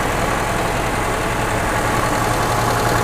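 A classic blue Mercedes-Benz car engine runs at a steady idle, a continuous low rumble that stays loud and close with no talk over it.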